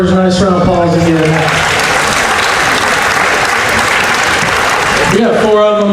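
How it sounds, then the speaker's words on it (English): Loud, dense applause from a crowd at a county fair hog show, rising for about five seconds between stretches of amplified announcer speech at the start and end. "Let's give these 4 exhibitors a nice round of applause again."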